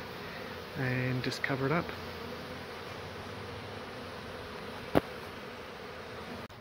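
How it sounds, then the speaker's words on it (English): Honey bees buzz steadily around a tree beehive box in the Castlemaine Botanical Gardens. The swarm hum holds throughout, a voice speaks briefly near the start, and a single sharp click sounds late on. "you can see now the bees are running into the box because they smell the eggs"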